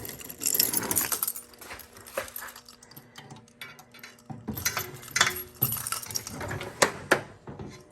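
A Snap-on tool chest drawer is pulled open, with steady metallic rattling, clinks and jangling of tools shifting inside over several seconds, close by and with no talking.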